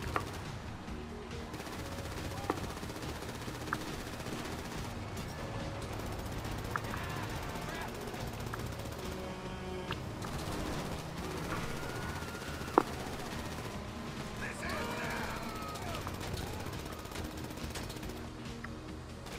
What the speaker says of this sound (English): These people need to stop shooting.